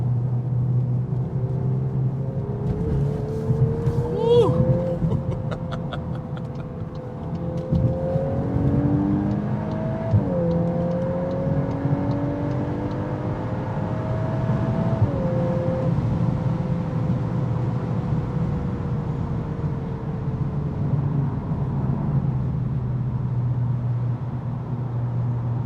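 A 2024 Volkswagen Golf R with all-wheel drive drives at speed, its steady engine drone rising and falling through gear changes over a constant low rumble of road and wind noise, with no voices.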